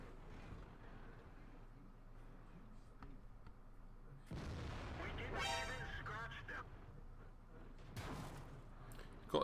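Tank gun firing in World of Tanks, a heavy boom midway through followed by a rumbling tail, under steady game noise and someone talking over it.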